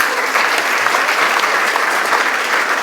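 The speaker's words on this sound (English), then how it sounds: "big round of applause for the last speaker" An audience at a generative design talk applauds the last speaker, a dense, steady round of clapping that fills the room from start to finish.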